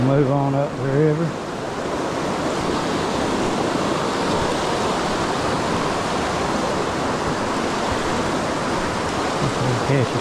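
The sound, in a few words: mountain river flowing in South Carolina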